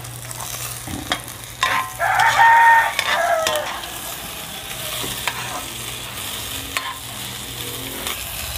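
Onion and ginger sautéing in a pan for chicken feet sinigang, a constant sizzle with a few stirring scrapes, while a rooster crows in the background.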